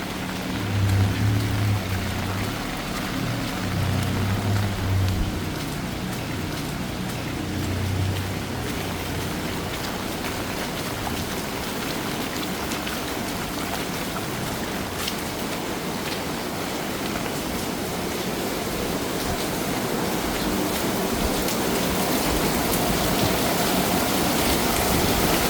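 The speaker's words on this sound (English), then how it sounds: "But as you can hear, the rain is laying down" Heavy rain pouring down in Bangkok during the rainy season, a steady dense broadband hiss that stays loud and unbroken throughout, with a faint low rumble near the start.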